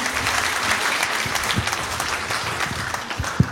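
An audience applauds a speaker at a French-language talk, steady dense clapping throughout with a few louder individual claps standing out near the end.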